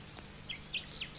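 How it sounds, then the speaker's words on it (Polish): A few short, high, clear bird notes sound in quick succession over a quiet low hum. "To słowik."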